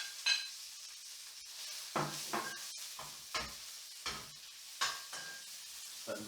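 Garlic and chili stir-frying in a pan for morning glory stir-fry: a steady soft sizzle with a few louder scraping stirs of a utensil against the pan, close and alone without talk.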